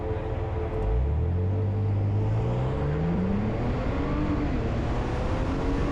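A 2022 Ford Bronco Raptor's 3-liter turbocharged V6 accelerates at full throttle, its loud, close engine note climbing steadily in pitch as the revs build, with no talking.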